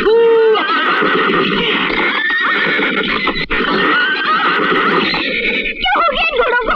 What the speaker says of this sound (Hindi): क्या हो गया इन घोड़ों को?